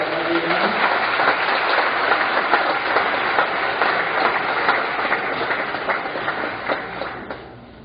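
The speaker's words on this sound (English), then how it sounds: "Give them a round of applause" Audience applause at a political candidate debate, heard as a dense, muffled, rumbling wash of clapping in a narrow, dull band that holds steady and then fades toward the end.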